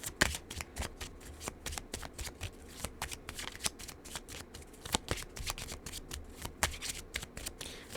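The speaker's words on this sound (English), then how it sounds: "there's not as many cards for the cards to flick off against each other to come out in the shuffle" A deck of tarot cards is shuffled by hand in a long run of quick, crisp card flicks and snaps with a steady irregular rhythm, close and clear with no speech.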